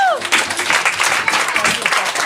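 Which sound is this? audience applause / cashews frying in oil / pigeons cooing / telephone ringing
audience applause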